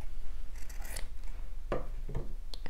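Scissors snipping off the corners of quilt fabric pieces, a few crisp close cuts with soft rubbing of cloth between them.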